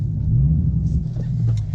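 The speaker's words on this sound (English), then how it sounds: "let's take this car for a ride and see what the traction's like." Dodge Hellcat on fresh, unscrubbed tires gives a steady low engine rumble as it pulls away, fairly loud and continuous with no talk over it.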